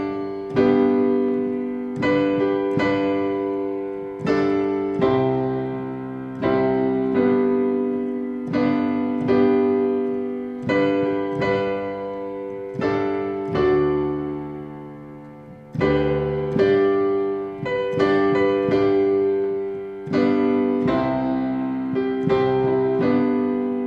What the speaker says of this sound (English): that's Amazing Grace. And what I'm going to do is I'm going to play it very hymn-like